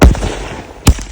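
Jelly crackers, low-priced Sivakasi firecrackers, go off in two sharp, loud bangs nearly a second apart, each followed by brief crackling debris.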